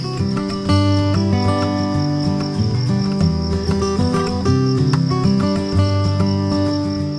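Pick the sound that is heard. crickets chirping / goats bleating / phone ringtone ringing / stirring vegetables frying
crickets chirping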